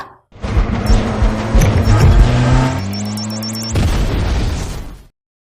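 A car packed with explosives blows up beside an army bus in an Indian film, a loud, close blast with a roaring engine and a rumbling, sustained aftermath layered with dramatic score.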